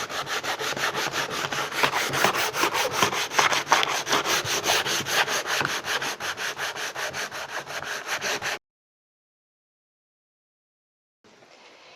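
An old wooden nightstand is sanded by hand with 500-grit sandpaper, giving rhythmic back-and-forth rasping strokes close up for about eight seconds, then silence before a faint resumption.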